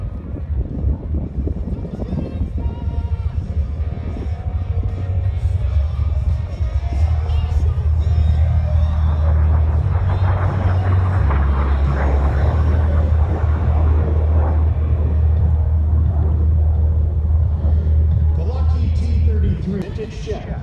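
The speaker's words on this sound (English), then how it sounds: "pulls the nose of the jet out and performs a series of rolls as he's climbing directly into the beautiful blue sky" A vintage Ace Maker jet makes a low air show pass, a loud sustained engine roar with deep rumble that swells and holds steady for about twenty seconds before easing off, crowd noise faintly underneath.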